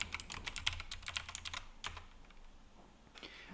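Quick bursts of clicky keystrokes on a computer keyboard as credentials are entered, close and fairly quiet, with a pause in the middle and a few final taps.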